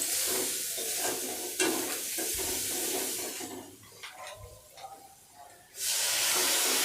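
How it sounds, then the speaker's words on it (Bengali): Ground cumin and chili powder stirred and fried in a pan, a soft steady sizzle broken by scraping strokes of a spatula, with a louder hiss surging near the end. "এরপর আমি একসঙ্গে নেড়ে চেড়ে খুব ভালো করে কষে নেব"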